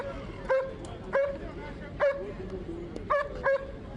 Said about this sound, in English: Fierce-looking dogs